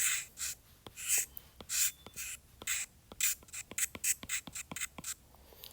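A marker squeaks and scratches across a board in quick strokes and taps, an irregular rhythm of short bursts, close and fairly quiet.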